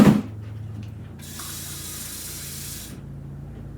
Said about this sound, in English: I'm going to add a little bit of water to this chicken stock.